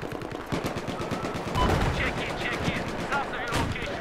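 Rapid high-rate gunfire in the PS4 game Battlefield 4, Final Stand DLC, with sustained automatic bursts and battle noise filling the scene, voices faintly mixed underneath.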